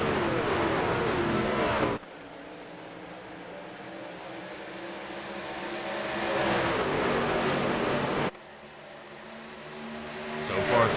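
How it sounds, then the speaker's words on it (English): Race cars in a racing video game at Charlotte Motor Speedway drone past in a steady, continuous engine roar that swells and fades with two abrupt cuts, loud and alone without talk. "Definitely wanted to give guys a chance to soak in the engine noises as they slide on by here."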